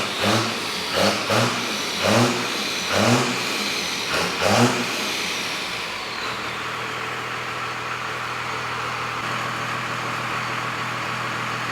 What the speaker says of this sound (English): it's idling at like 1200 RPM.